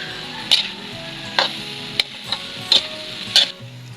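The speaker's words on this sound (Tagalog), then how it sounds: "Haluin lang natin ng konti." A spoon scrapes and clacks against a pan about six times in an uneven rhythm as green papaya and snails fry with aromatics, over a soft continuous sizzle.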